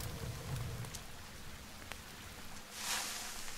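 Steady rain falls in the survival game The Forest, a dense, even hiss of drops with a few sharper ticks and a slight swell near the end, with no voices.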